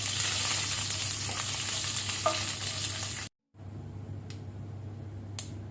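Dry red chilli pieces and a sprig of curry leaves fry steadily in hot oil, a dense close sizzle with a few light crackles, broken by a brief silent cut before a quieter stretch with sharp clicks.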